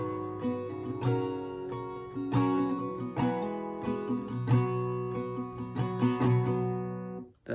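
Acoustic guitar playing the opening tab line of a song in its live version, a steady run of picked and strummed chords with ringing sustained notes, close and clear with no talking, ending with a brief damped stop.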